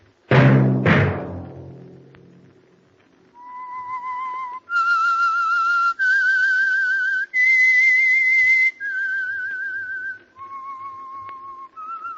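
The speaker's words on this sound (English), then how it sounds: "Let that whistle be your signal" The whistled theme melody of The Whistler radio program, clear sustained notes following two sharp, loud hits, the tune rising and falling steadily and playing alone.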